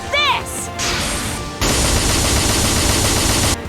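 Gun attack in the Super Neptunia RPG video game, opening with a short chirping effect, then a steady roar of rapid gunfire that jumps louder partway through and runs without pause until it cuts off near the end.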